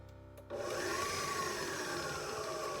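An electric mixer starts up at about half a second and runs on low speed, mixing frosting made with nearly half of a 2-pound bag of sugar, giving a steady, loud motor whir with a gritty churning texture.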